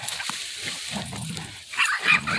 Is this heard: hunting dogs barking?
yes